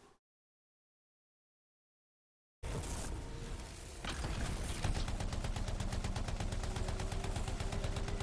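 Railgun and other weapon fire in a shooter video game, a sudden burst after a silent gap, then dense rapid loud shots and explosions continuing steadily to the end.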